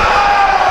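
A crowd cheering at a boys varsity high school basketball homecoming game, a loud, steady roar of voices heard only briefly.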